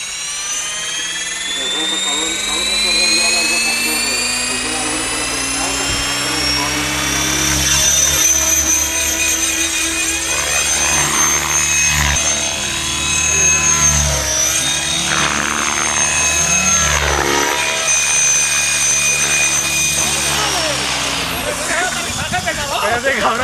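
A radio-controlled model helicopter flies at an RC club day in Valencia, its loud whining turbine and rotor buzz rising and falling steadily throughout as it passes, with voices shouting nearby over it.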